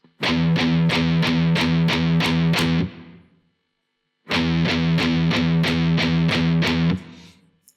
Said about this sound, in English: 8 eighth notes, which is just 8 notes in 1 bar of music